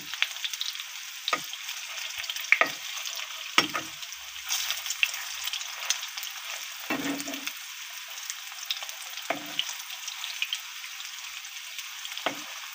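Plantain kofta balls deep-fry in hot oil with a soft, continuous crackling hiss and scattered small pops and bubbling bursts, heard close at low volume with no talk.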